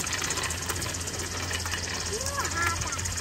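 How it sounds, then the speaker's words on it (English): A weed whacker engine runs steadily at a distance, a continuous buzzing drone beneath casual conversation. "Yeah, it's a weed whacker."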